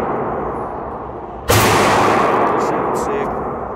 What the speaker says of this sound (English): We just shot the Glock 32 Gen 4.